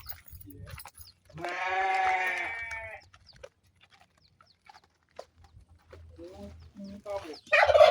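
Guinea fowl at a farm give a loud, harsh burst of calls, with more squawks later amid scattered farmyard noise and brief talk.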